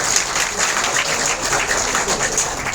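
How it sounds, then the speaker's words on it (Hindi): Loud, dense audience applause welcoming a guest at a Red Cross gathering, a continuous roar of many hands clapping from a packed hall, steady and close throughout. "एक बार जोरदार तालियों से स्वागत"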